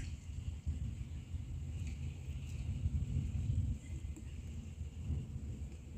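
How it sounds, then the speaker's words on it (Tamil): Wind gusting outdoors in a garden of rain lilies makes a steady, close rumbling roar that buffets the microphone continuously, with no voices. "காற்று தாங்க"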